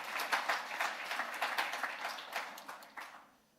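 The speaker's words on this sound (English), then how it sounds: "Can we also give him a round of applause?" An audience at a memorial lecture applauds a newly appointed official, a brisk round of many hands clapping that holds steady and then fades out at the end.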